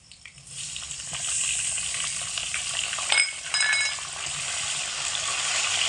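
Tomatoes frying in hot oil for a tomato aloo dum: a steady bright sizzle, with a short burst of stirring clatter partway through.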